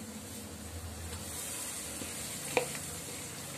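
Washed fenugreek leaves go into a hot pan, giving a soft, steady sizzling hiss with one brief clatter partway through.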